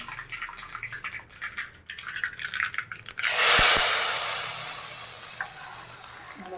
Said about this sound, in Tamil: தாளித்த கடுகு ஊற்றிடலாம்.